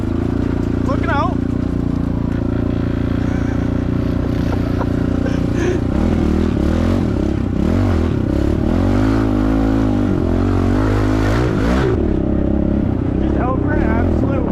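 A pit bike ridden down a snowy, icy mountain trail, its small engine droning steadily and then revving and clattering louder as it approaches, with a person talking over the noise.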